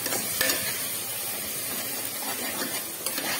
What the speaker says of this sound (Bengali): এটা যত ভাজা হবে কালারটা তত ভালো হবে।